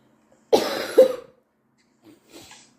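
One person nearby coughs twice in quick succession, harsh and loud, followed after a pause by a fainter, softer cough or throat clearing.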